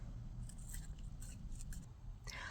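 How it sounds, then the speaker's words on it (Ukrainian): Scissors snip through coloured paper to cut out round brown wheels for a paper-appliqué bus in a preschool craft lesson, giving a series of quick, close crisp cuts over a steady low background hum. "Беремо ножиці та вирізаємо."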